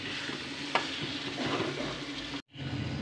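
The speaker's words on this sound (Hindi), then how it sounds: "मैंने जो उसके चिकन को मैरिनेट किया था उसे इसमें डाल के हम फ्राई कर लेंगे" Marinated chicken frying in a non-stick-free kadai for chicken Manchurian, a dense, steady sizzle with a few stirring scrapes, close and continuous, cut by a brief silent gap near the end.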